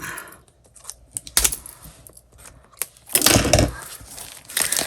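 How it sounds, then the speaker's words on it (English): Scissors snipping and tearing into a paper craft kit package with tissue paper inside, a few sharp crisp cuts and rustles close by, with a louder burst of cutting and crinkling near the end. "Get some scissors and open this baby up."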